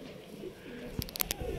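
A pigeon coos faintly at a loft where birds settle onto their perch, a few soft throaty notes near the end over a quiet, hissy background with no talking.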